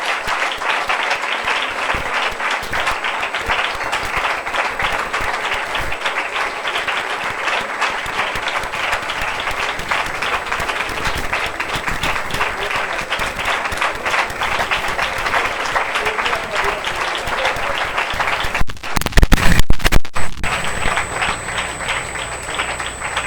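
A church congregation at a Sunday service in Pakistan claps steadily in a loud, dense, sustained round of applause that continues for a long stretch before a brief burst of other noise near the end.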